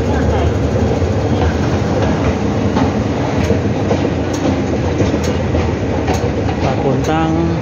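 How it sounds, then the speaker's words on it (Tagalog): A metro train pulls into a Hong Kong station bound for Wu Kai Sha, giving a steady loud rumble of wheels and motor with faint rail clatter throughout and a brief higher whine near the end. "Here's the train. Going to Wokay siya."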